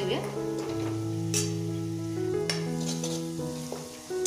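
Onion and garlic sizzle in hot oil as tempering for Maharashtrian shev bhaji, a soft frying hiss beneath sustained melodic background music.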